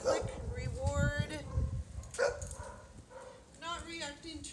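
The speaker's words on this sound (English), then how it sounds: "So we have got a dog off leash here." An off-leash dog barks a few times nearby during a walk, short sharp yips and barks under a person talking.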